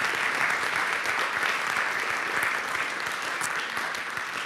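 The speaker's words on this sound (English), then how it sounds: "can we give our panelists and organizers of this event another round of applause?" Steady applause from an audience at a community event on racism and resistance in Milwaukee County, a dense wash of clapping that holds evenly and fairly close throughout, with no talk over it.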